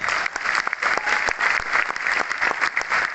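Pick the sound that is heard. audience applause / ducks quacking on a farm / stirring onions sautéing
audience applause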